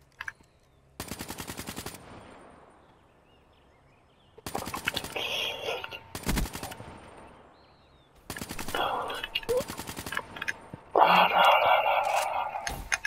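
Gunfire in Call of Duty: Black Ops III, loud bursts of rapid automatic fire repeating in several long volleys with short gaps between them.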